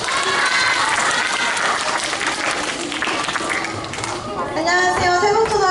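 Elementary school students clapping in a classroom lecture, a dense burst of applause close by, mixed with children's chatter and a voice speaking over it.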